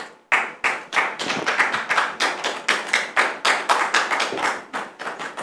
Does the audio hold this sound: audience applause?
yes